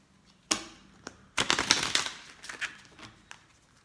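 Tarot cards are shuffled close up: a sharp riffle, a pause, then a longer burst of rapid fluttering snaps that trails off.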